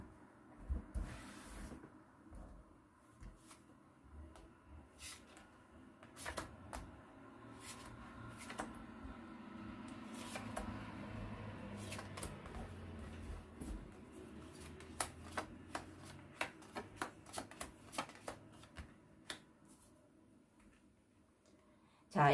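Tarot cards shuffled by hand, quiet scattered flicks and soft slaps that build into a quicker, denser patter near the end, low in level against a faint room background.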